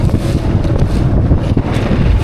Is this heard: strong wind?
yes